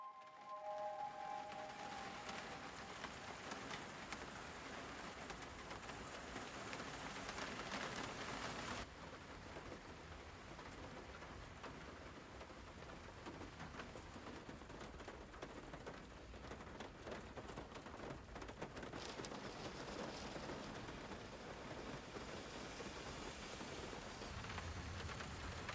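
Steady rain falling over a city, a dense, even hiss of drops on surfaces that runs unbroken and fairly quiet, with a slight change in texture partway through.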